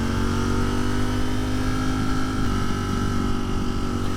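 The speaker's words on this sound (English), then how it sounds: "it's popping a little bit more too. You can hear the exhaust a little bit more." A warmed-up Ducati Streetfighter V4 motorcycle engine idles and revs with a steady, throaty, slightly popping exhaust rumble, close and continuous throughout.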